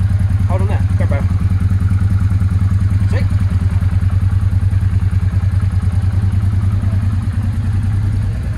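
A Honda Deauville NTV motorcycle engine runs at a steady, close, loud idle with an even pulsing throb. Brief voices and a few clanks come in near the start.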